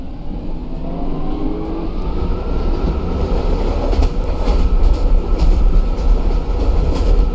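A Stockholm C20 metro train runs through a tunnel, a loud, steady low rumble with rushing wheel roar and faint rhythmic clacks that build slightly as it goes.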